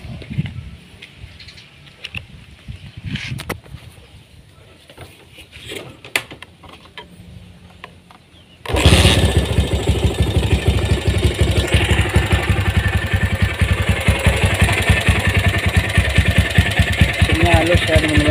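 A restored Honda GL series motorcycle engine starts up and runs steadily at a loud, even idle after a quieter stretch of background sound, with faint talk early on.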